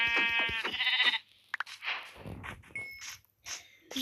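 A Minecraft lamb bleats in a wavering cry, followed by scattered clanks and softer game noises.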